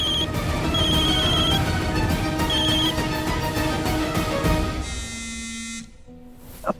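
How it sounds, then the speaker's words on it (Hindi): A phone ringtone chirps in repeated short bursts over a loud buzzing hum, with a brief electronic tone before it fades. "अब दादी का कॉल आ रहा है"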